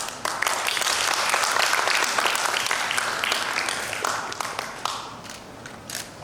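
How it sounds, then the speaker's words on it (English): Audience applause at a public speaking competition as bank representatives are welcomed on stage, a steady crowd of hands clapping that swells early, then thins and tapers into scattered claps near the end. "Please give them a round of applause."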